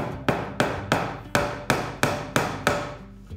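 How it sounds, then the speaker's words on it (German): A hammer drives nails into wood with eight sharp, evenly spaced blows, each ringing briefly before the next, close and clear with no talking. "ich mache ordentlich Nägel rein, damit die auch schön fest sind"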